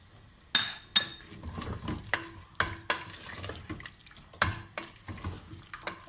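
Meat frying in a pan with mint and garam masala while being stirred: a steady soft sizzle broken by repeated sharp metallic scrapes and clinks of a spoon against the pot, close up and irregular.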